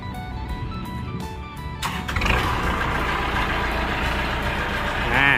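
A Kubota L5018 tractor, a 2017 model, cranks with a few starter pulses and then catches near the two-second mark. Its diesel settles into a loud, steady idle that swells briefly at the end.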